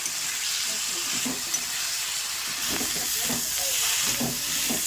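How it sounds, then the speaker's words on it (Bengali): Boiled eggs and potatoes sizzle and are stirred in a pan with turmeric and chilli powder for egg curry, a steady frying hiss with repeated scraping strokes of the spatula throughout. "এবার দিয়ে দেবো ভেজে রাখা ডিম, ডিম দিয়েও ভালো করে কষাবো।"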